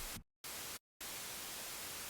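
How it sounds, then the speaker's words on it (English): White noise from a Pigments synthesizer, used as the base for a snare, plays as three loud, steady hiss bursts separated by short silences: two brief blasts followed by a longer sustained one. "The way I learned is to use white noise,"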